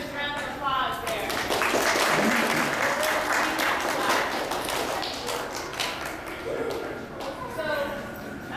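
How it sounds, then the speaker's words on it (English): An audience gives a loud, sustained round of applause for actors after a drug-prevention skit at a school program. Dense clapping fills the whole stretch and swells early before tapering slightly. "give your actors a round of applause there."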